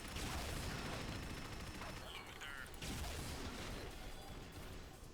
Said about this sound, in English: let's fire off some rockets